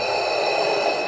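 A person imitates deep, dark Darth Vader-style breathing at a Star Wars Weekends event, one steady, close, hissing breath heard alone with a constant high tone behind it.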